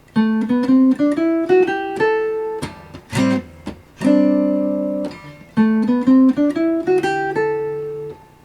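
A jazz guitar plays the higher octave of a Dorian scale in syncopated phrases, clean single notes ringing alone with short pauses between runs.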